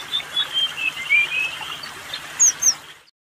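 A small songbird likened to a kacer gives a series of thin, high whistled notes, clear and fairly close over a soft background, ending in a couple of sharper chirps before falling silent.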